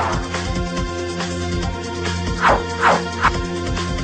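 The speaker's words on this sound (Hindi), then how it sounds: "एमजीएम अस्पताल बना कुत्तों का तबेला" Several dogs bark and yip at MGM hospital, with a cluster of sharper yelps near the end standing out over a busy, continuous background.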